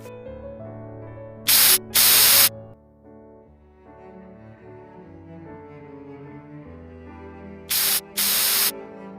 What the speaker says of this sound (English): a man started spraying pesticides on us